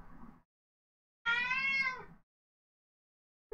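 A cat in Final Fantasy XIV gives a single drawn-out meow, close and clear, standing alone between brief moments of silence.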